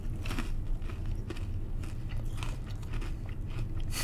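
Close, steady crunching as someone bites into and chews a crunchy Cadbury honeycomb chocolate bar, brittle crackles repeating throughout with no talk.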